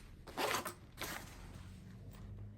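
A zipper on a handmade bag rasps open in two quick pulls, close and crisp, followed by quieter fabric rustling.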